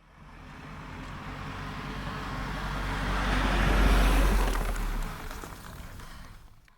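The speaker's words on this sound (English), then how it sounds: "And here it comes, literally a van for vancomycin." Animated van driving up as a cartoon sound effect, a motor rumble swelling from faint to loud as it nears, peaking and then easing off, with no voices.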